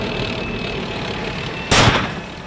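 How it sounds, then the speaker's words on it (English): A tank fires on a suicide truck bomb on the road to Mosul: one loud, sudden blast lands partway through, cutting over a steady low rumble of engines and distant activity. "A tank fired at a suicide truck bomb before it could wreak its havoc."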